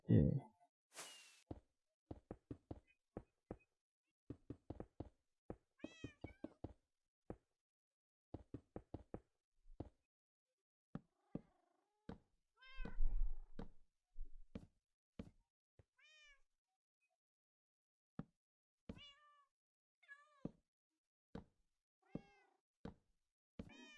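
Minecraft cats meow several times amid a string of sharp clicking knocks and taps in a hardcore survival game, the meows soft and scattered between the clicks.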